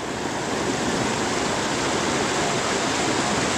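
Hardcore Cascades, a waterfall on the Appalachian Trail, roars in a dense, unbroken rush of falling water, loud and close, with no voices.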